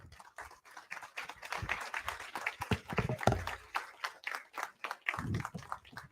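An audience at the React Norway conference claps in scattered, uneven bursts rather than one unified round, loud close hits mixed with softer ones.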